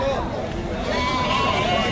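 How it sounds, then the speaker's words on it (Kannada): Pannara-breed sheep kept with young Bandur ram lambs, bleating repeatedly amid a busy farmyard with overlapping voices and crowd chatter. "ಇದು ಪನ್ನಾರ ಕುರಿ"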